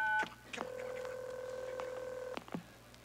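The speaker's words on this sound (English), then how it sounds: "press the following number on your phone." Telephone keypad dialing tones play on a comedy radio show: a short beep, then one long steady tone, then another brief beep, clear against a quiet line hum.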